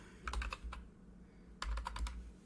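Fingers type on a computer keyboard in two quick bursts of crisp keystroke clicks separated by a pause, close and fairly quiet over a low background hum.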